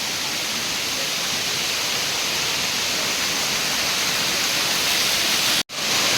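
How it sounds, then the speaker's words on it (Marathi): Kanto Lampo waterfall in a Bali jungle, its water crashing over rocks, makes a steady, dense roar with no breaks. The rush stays constant throughout, apart from a sudden momentary dropout near the end. "खडकावरून पाणी ज्या पद्धतीने कोसळते आहे"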